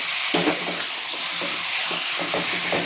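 Marinated chicken hits fried onions in a pan for a Bengali-style sukha chicken, giving a loud continuous sizzle with a few soft stirring knocks scattered through it.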